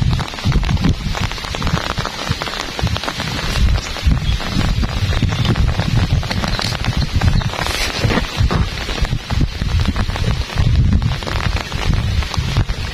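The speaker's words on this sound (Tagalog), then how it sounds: "Lakas na ulan." Heavy rain pours steadily and loudly onto a surface, a dense unbroken hiss with no voices.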